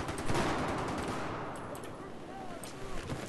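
Automatic gunfire in the video game Battlefield 4, a rapid burst of loud shots at the start that fades into a quieter rattle, with a few later shots.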